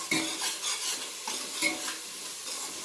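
Onions and tomatoes sauté in oil for pav bhaji, a soft sizzle running beneath repeated stirring scrapes of a spoon against the pan, close and steady with no voices.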